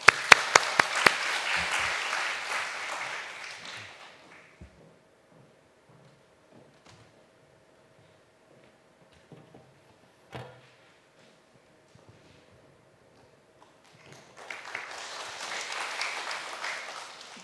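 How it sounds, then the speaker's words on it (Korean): A church congregation at a Friday prayer meeting breaks into applause, a dense wash of clapping that dies out after a few seconds. Quiet footsteps and small knocks follow before a second round of clapping swells near the end. "우리 박수로 맞이하겠습니다"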